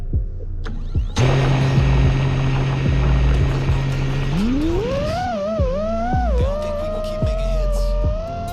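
An FPV drone spins up from a steady idle hum and lifts off, its buzzing pitch rising sharply and then wavering as it flies nearby, loud and continuous.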